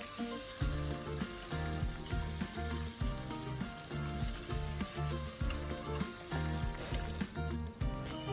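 Mixed vegetables with slit green chilies, mint and coriander fry in a pan for South Indian style khichdi, giving a steady, constant sizzle under rhythmic background music.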